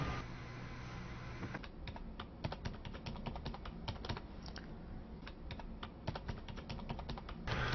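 Typing a password on a computer keyboard: quick, uneven clusters of close keystrokes clattering steadily throughout, with no voices.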